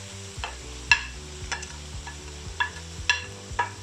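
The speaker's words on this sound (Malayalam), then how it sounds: "അപ്പോൾ എണ്ണയിലോട്ട് നമുക്ക് ഈ സവോള, നമ്മൾ അരിഞ്ഞു വെച്ചിരിക്കുന്ന 5 സവോള ഇതിനകത്തേക്ക് ഇടുന്നുണ്ട്." Five sliced onions fry in hot oil for chicken do pyaza, a soft sizzle under a steady hum, broken by sharp scrapes of a spoon stirring the pan about once every half second.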